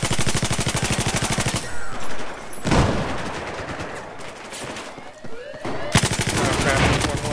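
Battlefield 4 gunfire during a Rush match: dense, loud automatic bursts with rapid repeating shots, a pause with scattered single reports, then another sustained burst, with game noise throughout.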